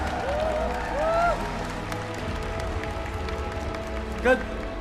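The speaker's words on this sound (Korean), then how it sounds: "박수 부탁드립니다." A crowd in a StarCraft StarLeague 2016 final venue applauds steadily for several seconds, a soft continuous patter of clapping beneath a host's voice.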